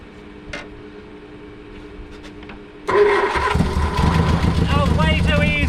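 An old Triumph Spitfire, fed fuel through the carburetor, cranks with a click and whir, then catches abruptly and runs loudly, revving unevenly up close, with a voice heard over the running engine.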